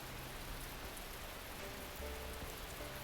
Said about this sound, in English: The streaks of rain have only grown larger and more frequent.